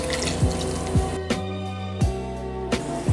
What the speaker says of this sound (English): 1 cup of vegetable broth